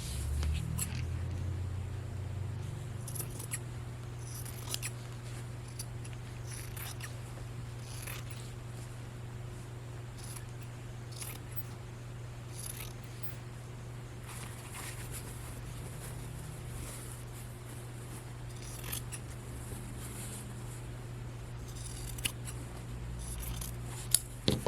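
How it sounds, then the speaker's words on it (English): Scissors cut along the seam of a shirt, giving repeated close snips and slicing crunches at an uneven pace over a steady low hum, with no talking. "I think I'll cut right along this seam"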